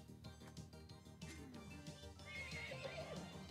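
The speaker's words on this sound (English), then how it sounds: "Oh, it's like a horse." A horse-like creature in the Sea of Stars video game gives a clear whinnying neigh with hoof-like clopping, rising in a wavering call in the second half, close and without talk.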